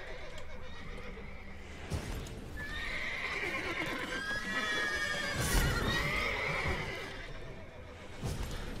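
A horse in The Witcher 3 gives a long whinnying neigh over the clip-clop of its hooves, loud and near, with scattered heavier thuds and no speech.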